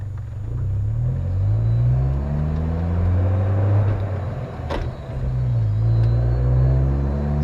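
A 1996 Kia Sportage's engine rumbles while driving, rising and dropping in pitch as it pulls through several gear changes, with brief lulls between shifts and a short clunk midway.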